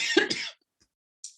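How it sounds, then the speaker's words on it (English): A single close, raspy cough, followed by silence and a faint breathy sound at the end. "Why is it the camera comes on and I start to cough?"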